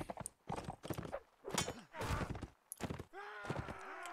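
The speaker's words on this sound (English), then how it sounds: "Let's use my horse as a weapon." A horse gallops in the medieval combat video game Mount and Blade: Warband, its hoofbeats mixed with thuds, impacts and grunts from a fight against farmers, loud and busy in bursts.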